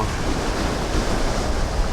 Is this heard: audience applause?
no